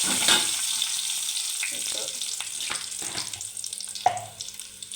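Chili tossed into browned onions frying in a pan for a beetroot curry, a steady broadband sizzle filling the whole clip with small scraping stirs and a sharper clink near the end.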